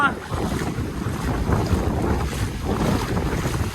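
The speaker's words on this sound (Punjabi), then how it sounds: "ਪਾਣੀ ਬਹੁਤ ਜ਼ਿਆਦਾ ਵਾਹ ਬੜਾ ਤੇਜ਼ ਹੋ" Fast-flowing floodwater rushes through Miani village in Punjab as a steady, loud, broadband roar with no pauses and no voices.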